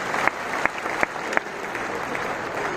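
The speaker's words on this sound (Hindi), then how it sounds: "ताली बजा लीजिए" An audience clapping together at an anniversary gathering, steady applause with a few sharp louder claps standing out over the dense crowd sound.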